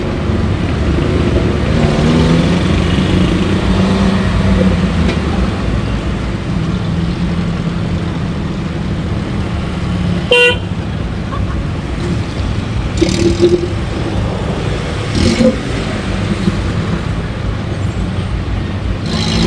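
Heavy, congested traffic on a Makassar city street near a school, a dense continuous rumble of cars, buses and trucks with an occasional air-brake hiss and horn-like bursts close by.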